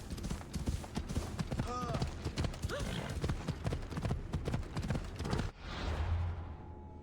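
Horse hooves clip-clop in Assassin's Creed Odyssey, a steady rhythmic trot running under game sounds and a voice for most of the stretch, then stopping near the end.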